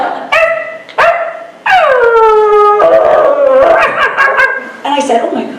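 A woman imitates a dog with her voice, giving two short sharp barks followed by a long, drawn-out howl and a final yip, loud and close in a convention panel room.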